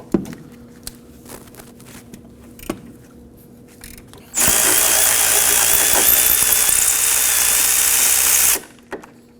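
A power tool whirs loudly for about four seconds, spinning out a brake caliper bolt on a Kia Optima, with quieter clanks and taps of handling before and after.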